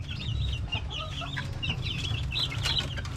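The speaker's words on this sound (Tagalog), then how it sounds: "So yan yung mga 1 month old natin na mga sisiw." A group of one-month-old chicks, picked as class A birds, chirp and cluck continuously together at close range, a steady busy chorus of high peeps over low farmyard murmur.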